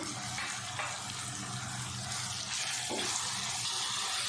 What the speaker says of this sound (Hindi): थोड़ा सा मैंने पानी डाल दिया, मसाले डाले हैं ताकि जले नहीं